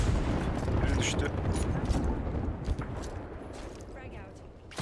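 A grenade going off in Apex Legends, a loud booming blast with a rumbling tail that stays dense for the first few seconds, mixed with gunfire and game noise, while players talk over it.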